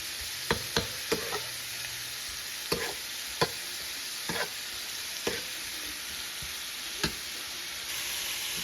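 Shrimp sizzles steadily in a hot pan, a constant bright frying hiss broken by scattered sharp pops and crackles, close and alone with no voices.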